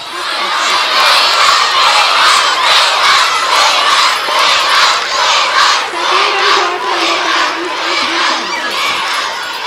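A large crowd of children cheers and shouts continuously during a school annual sports day finals race. The roar is loud and sustained, with excited yells rising and falling throughout.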